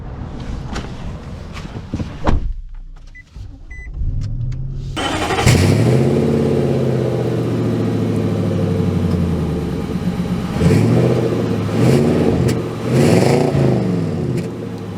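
A 2024 Nissan Titan SV pickup's engine starts with a burst, then a steady, loud drone builds as the truck drives off, its pitch rising and falling through gear changes, with no talk over it.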